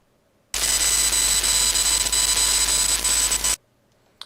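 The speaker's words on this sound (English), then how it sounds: "And this is what that rather noisy audio amplifier sounds like." A rather noisy audio amplifier gives off a loud, continuous hiss with discrete steady tones running through it, including a low hum and a high whine, lasting about three seconds alone before stopping sharply.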